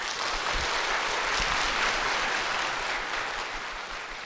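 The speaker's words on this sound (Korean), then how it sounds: "박수로 모시겠습니다" Audience at a church program applauds as a family is welcomed onto the stage, dense continuous clapping holding steady for several seconds before easing slightly.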